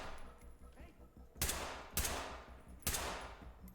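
Gunfire in the tactical shooter game Ready or Not, three sharp loud shots spaced about half a second to a second apart, each with a short decaying tail, in a post office level.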